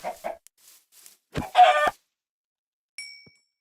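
A Minecraft chicken gives a few short, sharp clucks and squawks in quick succession, followed by a brief chiming pickup sound and then silence.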